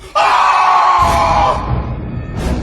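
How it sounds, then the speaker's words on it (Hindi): A loud scream echoing through a house as a ghost story effect, one sustained shriek of about a second and a half that fades into low reverberant rumble, then a brief high whoosh. "उसकी एक चीख उस घर में बहुत जोर से गूंजी"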